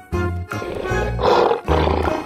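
A lion's roar from a kids' animal-sounds lineup, loud and close, starting with deep rumbling growls and swelling into a harsh full-throated roar, then another growling burst, with no voices.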